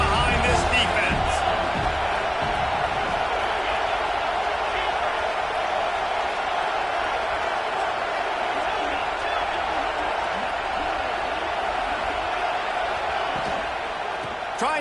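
A stadium crowd at a USC versus UCLA football game roars in a steady, sustained wash of cheering throughout, loud and unbroken, with crowd noise swelling early and holding level.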